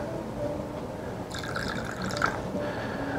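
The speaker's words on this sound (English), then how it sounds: "we want to take water, normal water, and we want to pour about 2 tablespoons into each glass" Plain tap water poured from a container into a glass while mixing acrylic paint, a brief gentle trickle and splash close by in a quiet room.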